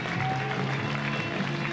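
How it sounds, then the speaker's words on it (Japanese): Dense, steady crowd applause fills an All Japan Pro Wrestling arena at a 1997 World's Strongest Tag League match as the winner walks back up the entrance aisle; the clapping is continuous and fairly loud throughout. "勝利を収めた志賀、花道を拍手に送られて引き上げていきます。"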